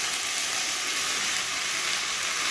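Washed jute leaf stems fry in a wok, giving a loud, steady, close hiss of sizzling oil that holds constant throughout with no talk.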